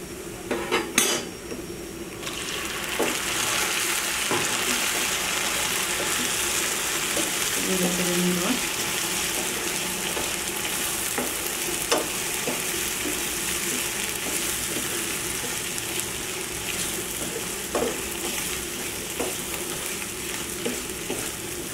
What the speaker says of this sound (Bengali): পেঁয়াজটা আমার ভাজা হয়ে এসেছে। এখন আমি চিংড়ি মাছগুলো এর মধ্যে দিয়ে দেব।